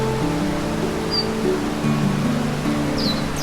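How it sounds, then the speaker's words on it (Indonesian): A clear river flows beneath an old bridge in a steady, close wash of rushing water, with a low, even hum running under it throughout. "Dan benar saja, di bawahnya ada sungai sejernih ini."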